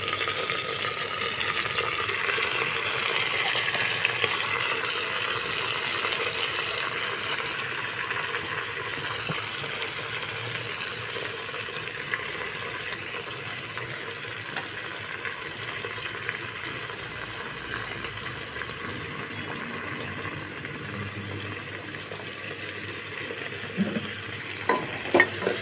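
Two whole dry red chillies and chopped spinach fry in hot oil, giving a steady, close sizzle that runs throughout, with light stirring and scraping in the pan.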